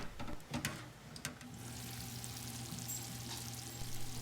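A pot of water for pasta boils quietly on a home kitchen stove, giving a soft steady bubbling hiss with a few light clicks and clatters near the start.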